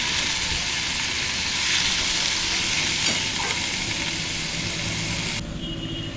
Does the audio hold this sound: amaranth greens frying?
yes